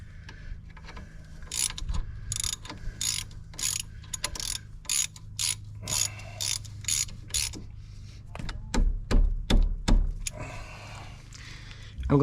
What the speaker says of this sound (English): We'll get our ratchet.